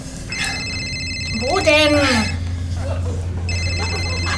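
Mobile phone ringtone sounding from a trouser pocket, a repeating electronic melody with steady tonal bursts at the start and again near the end, under a brief voice speaking in the middle over a constant background hum.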